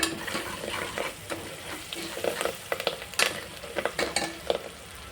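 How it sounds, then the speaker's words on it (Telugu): Onion paste and curry leaves frying in oil for a boti curry, a dense close sizzle with frequent sharp spatula scrapes and clinks against the pan, irregular and busy, no voices. "ఉల్లిపాయ పేస్ట్ వేసుకుని ఈ ఆయిల్లోనే ఫ్రై అవ్వనివ్వాలి పచ్చివాసన పోయేదాకా"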